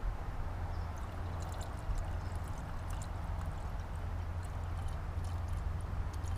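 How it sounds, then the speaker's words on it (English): Coolant pours steadily into a Honda S2000 radiator with a continuous gurgling wash, low and even throughout, no talking over it. "So we're gonna pour it in slowly."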